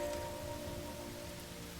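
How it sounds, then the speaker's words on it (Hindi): Heavy rain falls as a steady, dense wash of sound, fairly faint and unchanging throughout, with a faint tonal hum beneath and no voices. "रास्ते में तेज बारिश थी।"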